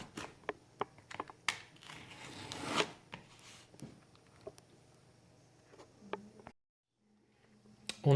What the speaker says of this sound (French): dans un des volets, on va découper 5 bandes de largeur 3 cm